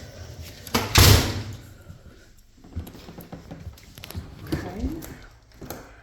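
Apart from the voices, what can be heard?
door being closed and locked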